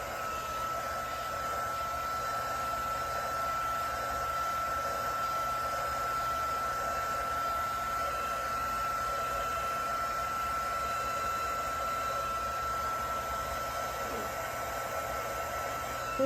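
A heat gun warms alcohol ink on a tumbler, giving a loud, steady blowing roar with a constant tonal whine that runs unbroken throughout. No one speaks.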